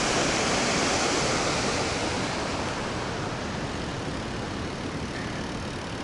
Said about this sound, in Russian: О, какая бурлящая. А вода-то какая прозрачная.